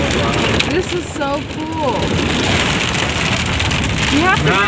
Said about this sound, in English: I've never seen this much hail.